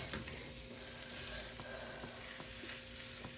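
Steak frying in a pan for a breakfast of steak and eggs, a soft, steady sizzle with faint crackles and occasional small pops, quiet and close.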